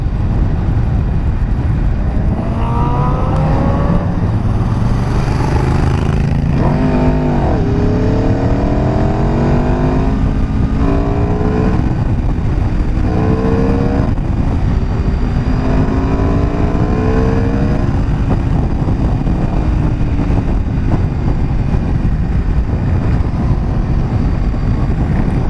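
An Aprilia RSV4 RF motorcycle engine accelerates hard while being ridden, its pitch climbing through repeated gear sweeps over steady wind roar, loud and close throughout.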